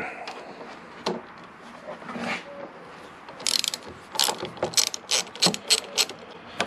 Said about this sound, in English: remove the top triple clamp bolts on each of the yokes